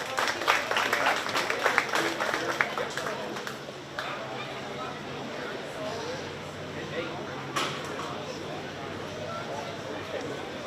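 An audience at a 4-H county fair sheep and goat show claps for a young exhibitor, a bright burst that fades into scattered claps and crowd murmur, with a few thumps later on.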